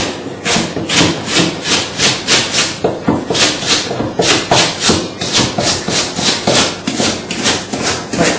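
A kitchen knife slices a large stalk of rhubarb into inch lengths on a board, giving steady, evenly spaced rasping cuts about twice a second, close and fairly loud, with no voices.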